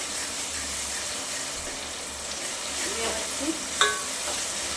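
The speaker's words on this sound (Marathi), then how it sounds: "एक दोन मिनटं आपल्याला आल्याचा लसणीचा मिरचीचा कोथिंबीरचा कच्चेपणा जाईपर्यंत छान अशी परतून घ्यायची आहे" Ginger, garlic, green chili and coriander sauté in a pan with a steady hiss, soft stirring scrapes, and a brief metallic clink near the end.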